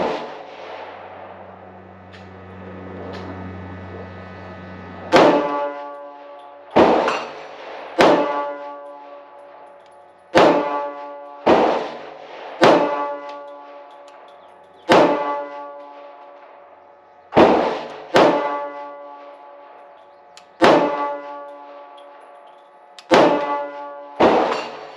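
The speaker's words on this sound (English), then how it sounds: "Let's see how the first couple shots go." Smith and Wesson M&P 22 Magnum pistol fired at an outdoor range: about a dozen sharp, loud shots at uneven intervals, each with a short ringing decay, following a quiet low hum.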